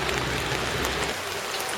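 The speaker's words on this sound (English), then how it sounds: "with the rain today in Seoul, it's not very pleasant" Steady heavy rain falls in Seoul around an old market area, a dense continuous hiss of drops with no voices.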